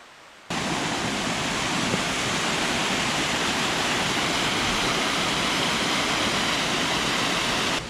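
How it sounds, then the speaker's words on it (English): Streams and waterfalls pouring into a river in a wooded Scottish glen, heard as a dense, constant roar of rushing water that starts abruptly and stays loud and steady throughout, with no voices. "Just the constant sound of the water and all sorts of different streams and waterfalls joining the river"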